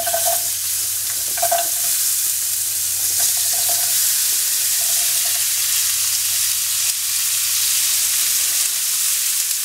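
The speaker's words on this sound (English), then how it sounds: "I'm gonna throw 3 carrots that I sliced up and an onion that I chopped up. I'm gonna put that in the pan now." Sliced carrots and chopped onion fry in a hot pan with a steady, loud sizzle, stirred now and then, continuing without any talking.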